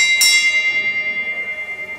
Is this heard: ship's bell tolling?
yes